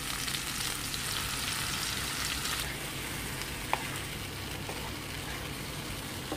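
Garlic, onion, tomato and eggplant frying in a pan, a steady dense sizzle throughout with a couple of faint utensil clicks, no talking.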